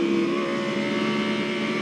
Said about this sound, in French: Non, c'est une moto.